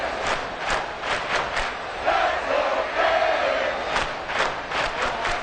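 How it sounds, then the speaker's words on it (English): A football stadium crowd in a Madden video game roars steadily to force a false start, with rhythmic surges of chanting and stomping-like pulses and a brief rising shout in the middle, loud and sustained. "This crowd trying to force a false start here."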